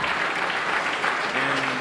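A wrestling crowd at an independent show claps in a burst of steady applause after a head scissors takeover, with a faint voice underneath.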